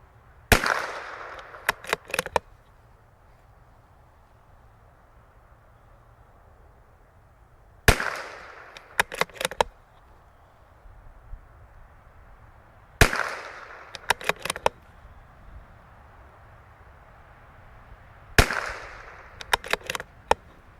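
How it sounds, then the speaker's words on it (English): Four separate groups of sharp .22 LR reports from a CZ 457 rifle during fouling shots, each with one crack and several quicker shots, spaced several seconds apart, fairly close and loud over quiet outdoor background. "we're just gonna shoot 10 fouling shots"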